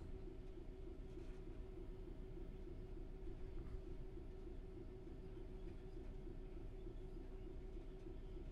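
A cleaning train driven in Train Sim World 3 gives a low, steady rumble with faint rhythmic clatter from the rails, quiet and continuous, with no speech.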